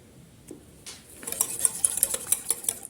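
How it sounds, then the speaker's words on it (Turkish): A spoon stirs and scrapes a breakfast mixture seasoned with salt, baking soda and black pepper, clicking lightly against the bowl in quick, uneven strokes that grow busier toward the end, with no talking. "Karışımı güzelce karıştırıyorum güzelce birbirine geçsin."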